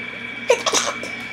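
A single sharp sneeze bursts out, close and fairly loud, with a quick second gasp-like burst right after, over a faint steady hum.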